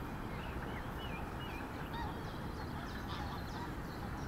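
Ducks near a pond at a carp fishing spot give repeated honking quacks over steady outdoor background noise, calls scattered and fairly faint.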